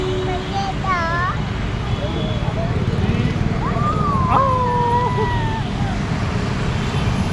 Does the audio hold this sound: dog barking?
yes